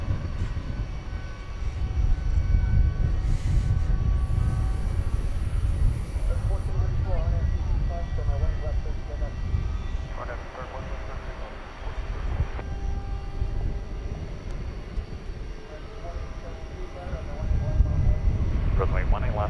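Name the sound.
Airbus A321neo airliner at DFW Airport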